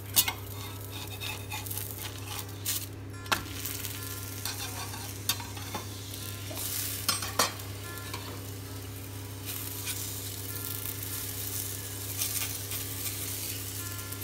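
Maize flour roti sizzles softly on a hot griddle with desi ghee, with a steady faint frying hiss and occasional light scrapes and taps from turning it.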